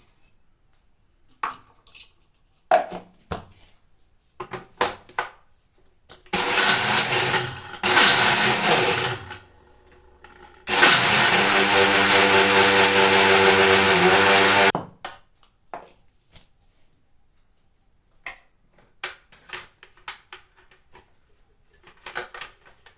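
An electric mixer grinder pulverizes sugar with cardamom seeds in two loud bursts, a short whir followed by a longer, steadier roar, with quiet clinks and handling sounds before and after.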